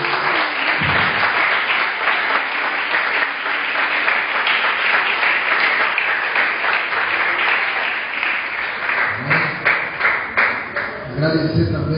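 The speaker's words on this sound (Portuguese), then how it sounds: "Dê uma salva de palmas para o Senhor." A church congregation applauds at a preaching service, dense clapping filling the room steadily for most of the stretch before thinning into scattered claps near the end, with some voices mixed in.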